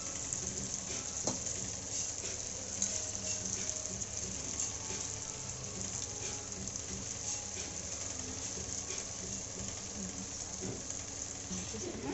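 Mysore bajji batter frying in hot oil, a continuous soft crackling sizzle heard close and quiet, with faint stirring sounds throughout.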